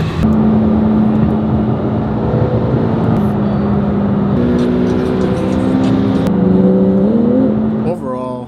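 A supercar, apparently a McLaren, drives with a steady engine drone and shifting whirring tones, changing pitch through gear changes, loud and continuous with no voice, easing off at the very end.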